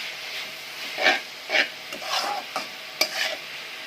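A spoon stirs chawli bhaji in a pan, giving several soft scraping strokes roughly every half second over a faint sizzle, close and quiet with no talking.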